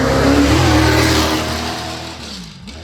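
The 1971 Shadow Mark II Can-Am race car roars past at Goodwood, loud and close, then its engine note fades quickly into the distance.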